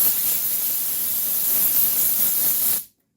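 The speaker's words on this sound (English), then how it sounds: "I will spray some air on it" Compressed air blasts in a loud, continuous hiss across the dashboard of a 1964 Cadillac during a dash recovery job, holding steady for nearly three seconds before cutting off abruptly into silence.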